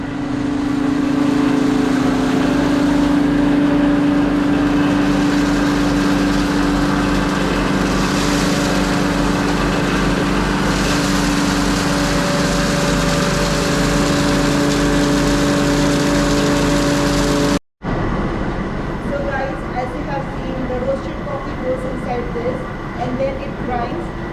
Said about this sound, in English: Now I would be showing you that how coffee would be grinded.